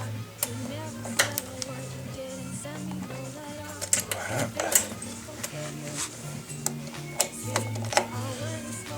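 A small wrench tightening the cylinder head of a Bernard BM4 engine gives close, irregular metallic clicks and ticks, under a low steady background hum.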